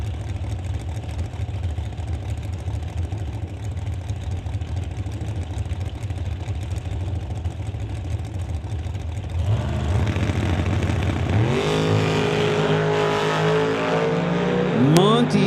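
A 1933 Ford Coupe drag car revs and launches at a drag strip, the engine rising loud and close with sweeping pitch after a stretch of steady rumbling and idle.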